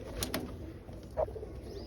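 Pigeons kept in a loft, white and black birds among them, give a soft brief coo against a quiet background with a couple of faint rustles.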